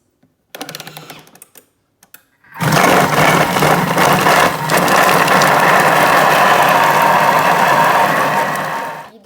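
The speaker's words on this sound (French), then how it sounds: "Je ferme mon bol et je vais mettre 20 secondes, vitesse 6." A Thermomix blends puff pastry dough at speed 6: a brief start-up whir and clicks, then a loud, steady grinding motor hum that runs for about seven seconds before easing off.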